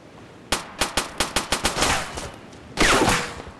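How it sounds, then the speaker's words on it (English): Video-game gunfire in Arma 2: a rapid string of about ten loud, evenly spaced shots, a brief pause, then another burst of shots close by. "he shot me through the rocks"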